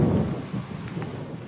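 Thunder rumbles under steady rain, a low rolling boom that swells at the start and keeps grumbling through the downpour during a storm.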